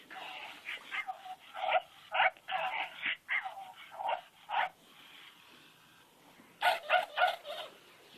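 A pet dog barks and whimpers close by in a home, a run of sharp yips and whines in uneven bursts, pausing briefly before a final cluster of barks.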